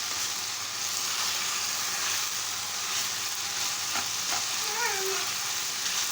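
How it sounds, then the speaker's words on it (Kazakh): Onion, carrot and garlic sizzling together in a hot pan, a continuous close frying hiss with faint stirring clicks and a brief scrape near the end. "Жуамызды, сәбіз, сарымсақтарымызды бәрін қосып жақсылап қуырамыз."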